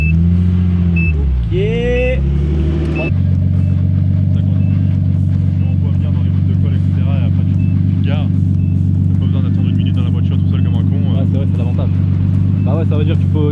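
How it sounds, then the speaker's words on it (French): A Nissan Skyline R33's engine idles steadily on its turbo timer after the car is stopped, with a low, even rumble, while people talk nearby over the running motor. "Et là tu vois ce que tu entends là c'est le turbo timer."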